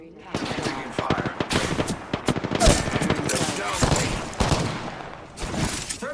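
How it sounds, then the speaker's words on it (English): Rapid bursts of automatic gunfire and scattered shots in a video game firefight, loud and dense throughout, with a voice talking over the shooting. "Taking fire."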